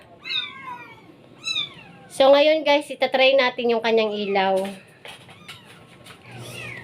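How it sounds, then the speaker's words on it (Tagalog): Cats meow outdoors, first two thin high calls, then a longer run of loud, close meows, while a person talks over parts of it. "Ang ingay ng mga pusa dito."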